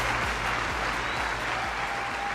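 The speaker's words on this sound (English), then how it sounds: "Everybody, give Marina Worre a big round of applause" At a Go Pro 2021 event, an audience gives Marina Worre loud, sustained applause, clapping packed tight and close while a low rhythmic music beat pulses underneath.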